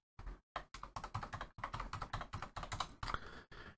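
Quick bursts of close computer-keyboard typing, with short clattering runs of keystrokes separated by brief pauses, as an IP address is entered to connect to a Freebox.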